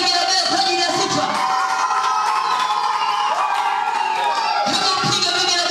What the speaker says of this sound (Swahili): Hebu piga vigelegele kwa ajili ya sifa.